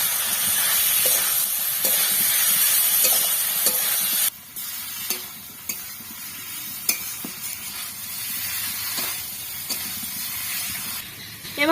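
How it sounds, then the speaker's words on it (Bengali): Potatoes with chopped ginger, turmeric and salt are stirred and sautéed in a hot pan, giving a steady close sizzle with scraping stir strokes that ease after a few seconds into quieter frying with occasional clicks. "এবার ভালো করে কষে নিতে হবে।"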